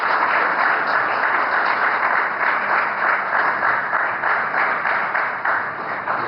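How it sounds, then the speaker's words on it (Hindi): Sustained crowd applause at an INS Towers inauguration event in Mumbai, a steady, even roar of many people clapping together, moderately loud and continuous throughout. "तालियां की गूंज आती रहे।"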